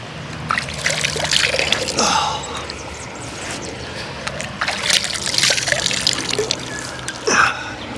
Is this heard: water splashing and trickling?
yes